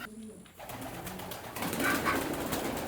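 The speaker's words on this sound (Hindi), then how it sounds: "कबूतर बैठे हैं अपने अपने अंडों पे" Pigeons sitting on their eggs in a damp, humid room, soft low cooing heard a few times, close and fairly quiet against faint room noise.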